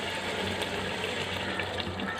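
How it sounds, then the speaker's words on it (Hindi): Water pours steadily into a pot of fried spice masala while Bukhara-style Arabian rice is being made, a continuous close, splashing gush that runs unbroken throughout. "अब हम इसमें पानी डाल देंगे।"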